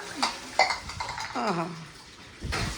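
Dishes, pots and pans clatter and clink while being washed at home, with scattered sharp knocks and rattles over a faint wash of water and a voice speaking at times.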